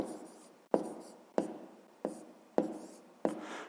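Pen strokes on paper while a fraction is written out in a fifth-grade math lesson, five distinct scratchy taps at a steady rhythm, each fading quickly, close and quiet with no talking.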